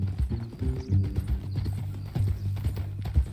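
Horse hooves clip-clop steadily and close by in Red Dead Redemption 2, a new mean-looking horse on the move, with a brief whinny-like sound partway through.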